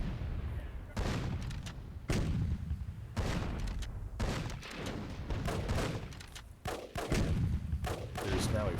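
Gunfire and explosions ring out in the strategy game Myth II: Soulblighter, set in a WWII-themed battle: loud, repeated blasts and volleys strike about once a second, each followed by a short crackling decay.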